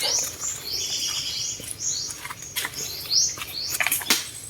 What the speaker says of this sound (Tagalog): mga huni ng mga ibon ang iyong maririnig